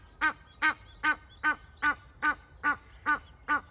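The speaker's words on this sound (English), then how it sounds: "Egyptian geese chicks." Egyptian geese with chicks on a river give a regular series of nine loud, honking calls, evenly spaced about half a second apart, close and clear over quiet background.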